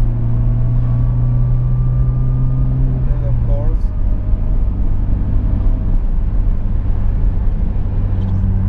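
A 1991 Mercedes 124 200CE running on LPG with a sport rear exhaust hums and rumbles steadily while driving through the city, engine tone shifting partway as someone talks over it.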